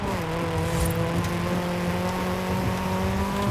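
Rover 214 car in the Forza Horizon 5 racing video game, its engine droning at a steady pitch while driving, loud and continuous with a slight rise in revs and road noise beneath.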